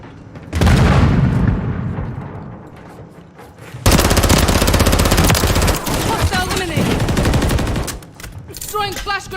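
Gunfire and a grenade blast from a Call of Duty Modern Warfare 3 match, with a loud boom followed by rapid automatic bursts and mixed in-game effects, dense and close.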